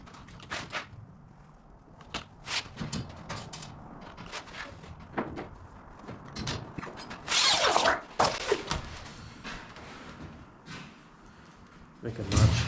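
Sheet metal corners being notched for a rectangular offset and plenum, a series of sharp clicks and metallic snips with a louder, longer scraping burst midway, close and fairly quiet. A voice speaks at times.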